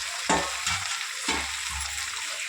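Gongura (red sorrel) leaves frying in hot oil with no water, stirred with a spoon: a steady broadband sizzle with a few distinct scraping strokes against the pan, close and fairly loud, no voices.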